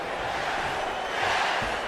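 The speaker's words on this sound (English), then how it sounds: "Crowd wants to see it." A wrestling arena crowd in the video game WWE 2K25 roars steadily throughout, a dense, loud, continuous wash of cheering with no break.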